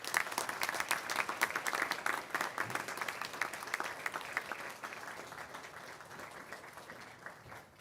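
A graduation audience of families at a Griffith College ceremony breaks into sustained applause, a steady wash of many hands clapping that holds for several seconds and slowly thins toward the end.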